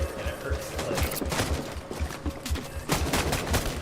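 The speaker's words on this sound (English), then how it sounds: "You just don't want to get hit by this gunfire, because that will hurt you." Rapid bursts of gunfire in the video game Death Stranding, repeated volleys and crackling shots over a rhythmic low thump, loud and continuous with no talking.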